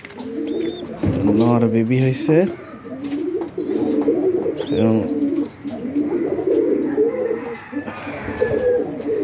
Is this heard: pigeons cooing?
yes